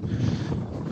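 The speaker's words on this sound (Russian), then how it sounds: "дождь, ветер" Steady wind rumbles and buffets the microphone with a broad rushing hiss during rain on the Tereshkova seafront in Yevpatoria; no distinct raindrops stand out.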